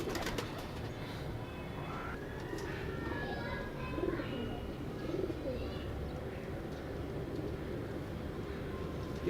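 Pigeons cooing in a loft, soft repeated coos over a busy background with faint bird chirps and low murmuring voices.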